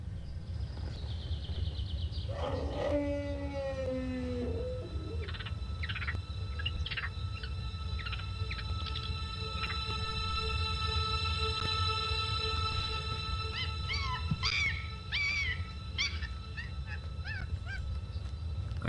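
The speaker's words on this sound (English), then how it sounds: "It was a real wolf, at least." In the PC horror game The Beast Within, a wolf at a zoo lets out drawn-out, wavering howls and a few short yelping calls over a steady low background hum. No voices are heard.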